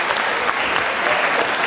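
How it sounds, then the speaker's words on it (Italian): Audience applauding under a circus tent at the Palio Contrade 2011 burlesque show in Solagna, a dense, steady wash of clapping that holds at full strength throughout. "Applauso."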